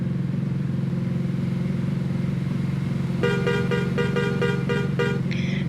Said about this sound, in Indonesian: Di sini BTW kalau kita klakson nih bakal minggir loh mobil-mobilnya